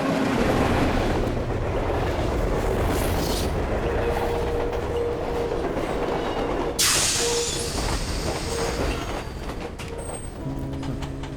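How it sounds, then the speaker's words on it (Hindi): A train rolls into a station at steady volume, a dense rumble of wheels and carriages with rhythmic clatter, a sudden bright hiss partway through and faint squealing as it slows near the platform. "चलो ट्रेन आ गई, आ जाओ।"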